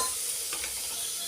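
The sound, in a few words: tomato and coriander frying in oil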